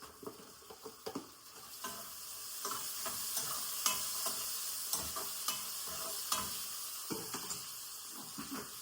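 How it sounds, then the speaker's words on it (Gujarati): Garlic and chillies sautéing in a pan for tuver thotha, a continuous bright frying hiss with repeated scraping strokes of a spoon, close and without talk. "ગાઈસ લસણ મરચાંને થોડી વાર સાંતળવા દઈશું આપણે."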